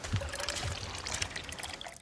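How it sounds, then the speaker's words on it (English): Water being poured into a container, a continuous splashing trickle close by that tapers off at the end. "when Mama comes and pours the water in, it will not go everywhere"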